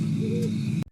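A horned owl gives a single low, sustained hoot, close and clear, cut off abruptly after under a second.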